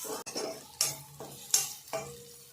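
A spoon stirs chili powder, salt, turmeric, masala powder and pepper into a prawn curry mixture in a metal pan, giving four distinct scraping strokes against the pan with faint clinks and no voices.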